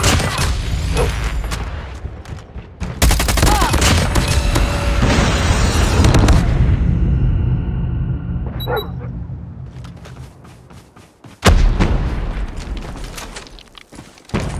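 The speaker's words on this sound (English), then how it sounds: "Hostile Predator missile inbound" Heavy booming blasts and crackling debris from Predator missile strikes in Call of Duty Mobile on the Nuketown map, loud and sustained, with a sharp new impact near the end.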